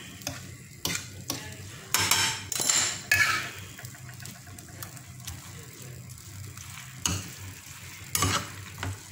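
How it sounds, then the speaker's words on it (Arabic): Spaghetti stirred into hot tomato sauce, with scraping and clanking of a utensil against the pan in irregular bursts over a low simmering sizzle, and a voice murmuring faintly in the background. "ونخلطو الكل"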